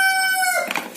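A rooster crows once, close and loud, in a single drawn-out call that breaks into a raspy ending.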